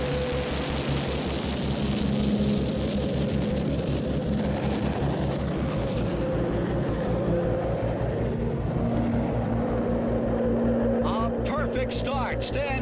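The Budweiser Rocket car's rocket engine ignites and runs, a loud continuous roaring rush with a steady low throb that holds throughout, with faint higher sputters near the end.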